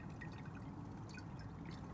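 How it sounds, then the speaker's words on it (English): Filtered water from a reverse osmosis filter system trickles into a jar, a soft steady stream with faint splashes and drips, quiet and close, with no talking. "It's coming out just fine."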